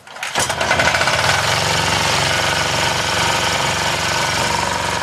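A running engine fuelled with unrefined oil synthesized from sea algae: a steady, loud mechanical drone with a fast knocking rattle, starting abruptly and holding constant to the end.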